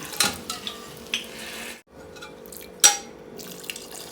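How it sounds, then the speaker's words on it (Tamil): Lentil water pours and splashes into a hot pan of cooking sambar, sizzling and bubbling with a few utensil clinks, briefly pausing before pouring resumes. "பருப்பு தண்ணியை ஊற்றி நம்ம வேக வைக்க போகிறோம்"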